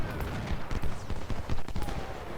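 Musket volleys crackle in the Ultimate General: Civil War battle game during a river crossing, with ragged overlapping shots popping steadily for a couple of seconds, fairly loud and dense, with no talk over them.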